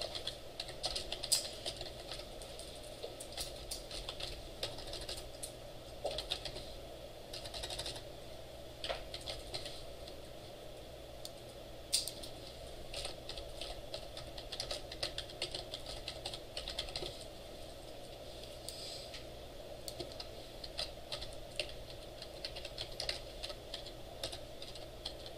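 Steady, continuous clicking of fingers typing on a computer keyboard runs throughout, fairly faint, with no talking.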